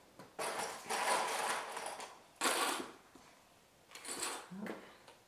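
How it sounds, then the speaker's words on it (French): A sewing machine stitches a folded T-shirt's underarm and side seams in one pass, running in several bursts of steady mechanical whirring separated by short pauses, moderately loud and close. "on va piquer en une fois le dessous du bras et les côtés du t-shirt"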